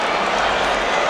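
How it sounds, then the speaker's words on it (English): Boxing arena crowd roaring in reaction to a knockdown replay on the big screens, a dense, loud, continuous wash of cheering and noise. "You hear the crowd reacting to the big screens"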